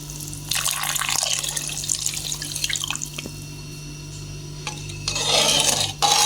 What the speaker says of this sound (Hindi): अभी हम इसमें दूध शामिल करेंगे